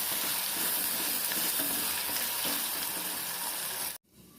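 Vegetable curry with tomatoes cooking in a pan, a loud, steady hissing sizzle with faint stirring clicks that cuts off abruptly near the end.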